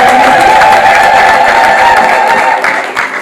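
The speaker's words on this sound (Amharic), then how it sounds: "ጭብጨባ ለኢየሱስ" A church congregation applauds loudly and steadily during a prayer service, a dense wash of clapping with some cheering that holds for several seconds before easing slightly.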